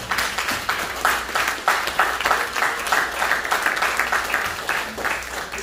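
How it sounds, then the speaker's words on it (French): A congregation claps during a sermon, giving a lively, sustained round of applause with a slightly pulsing rhythm. It is close and loud, and no talk is heard. "Un applaudissement."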